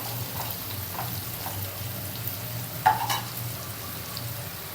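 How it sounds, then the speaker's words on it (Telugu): Bitter gourd pieces fry in a pan over medium heat, sprinkled with salt, with a steady close sizzle and occasional scraping stirs and taps, one louder clatter near the middle and no voices. "ఇలా మధ్యలో కలుపుతూ ఉండాలి"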